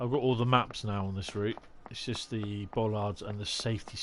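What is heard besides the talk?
No everyday noises stand out.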